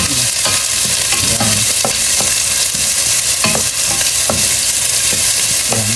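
Ginger, onion and chili fry in a hot pan, with a loud continuous sizzle broken by repeated scraping stirs of a utensil, heard up close with no voices.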